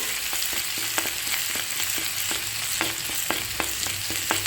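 Grated ginger sizzles in hot oil while being stirred for a potato and green-pea curry, with steady frying hiss punctuated by regular spatula scrapes and taps against the pan.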